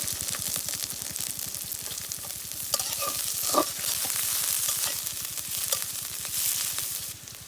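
Vegetables with peas and carrots stir-frying in a pan for Maggi noodles, a steady loud sizzle with a rapid, regular scraping rhythm of the spatula throughout.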